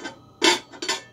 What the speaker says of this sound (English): you need to take the lid off.